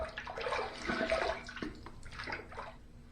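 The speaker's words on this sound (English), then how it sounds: "Let's rinse." A razor rinsed under running water after a shave with a Charcoal Goods Toothsome Plate, a close, soft rushing splash of water that swells and then tapers off, with no voices.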